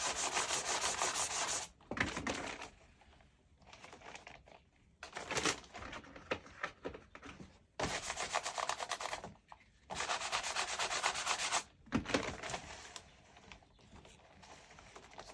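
A rubber squeegee drags across sign vinyl on a screen-printing frame for a T-shirt, in long rasping passes separated by short pauses, close and fairly loud with no talk.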